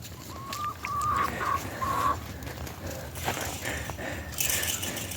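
A chicken that has flown from the coop into the snow clucks outdoors, a few close, loud calls with short pauses between them and no talking.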